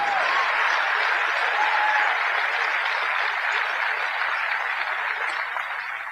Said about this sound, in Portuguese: Eu não sei porque vocês estão aplaudindo